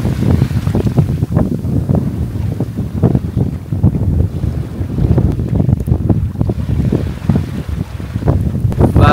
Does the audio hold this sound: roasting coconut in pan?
no